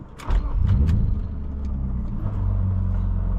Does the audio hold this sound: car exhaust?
yes